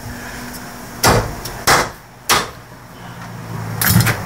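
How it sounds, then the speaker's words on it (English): A dead blow hammer delivers three sharp, loud whacks, evenly spaced about half a second apart, against the flange of a Mopar brake master cylinder in a garage, each blow a short thud with a brief ring and a faint clatter at the end. "Usually one or two really good whacks on the back of this flange right here will separate the two."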